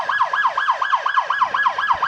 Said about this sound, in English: And, of course, those sirens.